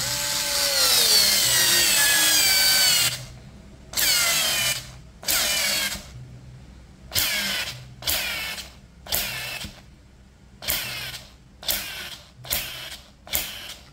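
A Ronix 8591 or 8530 cordless screwdriver driving a 2-inch screw into hard material, a long whirring drive followed by repeated short loud bursts of ratcheting clutch, close and alone.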